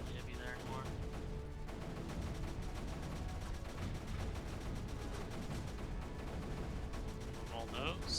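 Mortars and cannons in the strategy game Creeper World 3 fire continuously as a dense, rapid stream of overlapping crackling shots and thumps, steady and moderately loud, with no speech heard.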